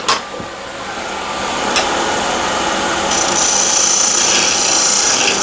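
A steel scraper with a slight burr shaves across a hornbeam wood box in close, loud, continuous rasping strokes, with a sharp scrape at the start and a brighter, harsher stroke in the second half.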